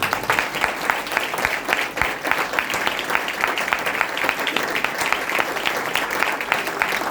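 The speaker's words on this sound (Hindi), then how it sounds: "आए अपने यीशु के लिए भरपूर ताली।" A church congregation applauds during a worship service, steady loud clapping from many hands filling the room without pause.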